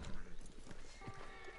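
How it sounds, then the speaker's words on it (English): Horse hooves clip-clop in Red Dead Redemption 2, with a few quick steps mixed with a soft snort or whinny, fairly quiet and steady, and a voice speaking faintly in the background. "Oh, why am I on my horse?"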